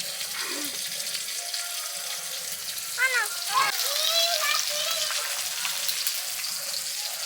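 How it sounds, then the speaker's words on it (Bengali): Bhetki fish sizzles steadily in a hot pan, a dense crackling hiss throughout, with a voice briefly rising over it partway through. "বাকি মাছ ভেজে নিচ্ছি"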